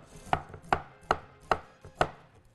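Five sharp, evenly spaced cracking knocks, close and fairly loud, as half a pomegranate is broken open and its seeds knocked out for an arugula and pomegranate salad.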